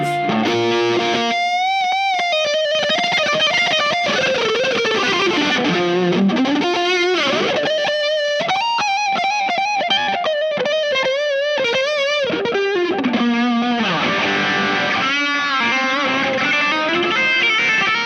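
An electric guitar runs through a Brothers AM dual distortion pedal, a Chase Bliss and Analogman collaboration, with both channels on high gain and maxed, giving a continuous thick, saturated stream of sustained notes and bends without any talking.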